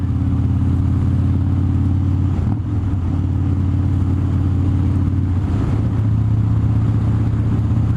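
A car engine revs with an S&S teardrop intake, droning loud and steady at low pitch for the whole stretch, the pitch shifting slightly midway, with no voices.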